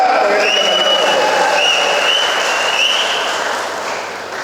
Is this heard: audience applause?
yes